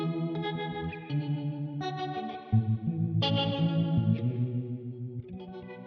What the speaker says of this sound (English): But then you've also got that rotary where it almost brings in like a chorusy sort of sound.